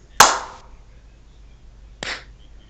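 Group of people clapping together on a count of three indoors, producing one sharp unified clap followed two seconds later by a second, softer clap that trails off.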